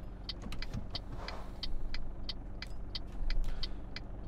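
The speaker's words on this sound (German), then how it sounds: "Mercedes hört sich ein bisschen an, als ob er gebraucht wurde." Mercedes truck engine in Euro Truck Simulator 2 hums as a low, steady drone, with a regular light ticking sounding over it throughout.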